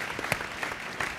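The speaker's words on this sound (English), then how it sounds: "they clapped already" An audience claps steadily through the whole stretch, a dense, moderately distant patter of many hands at a public panel event.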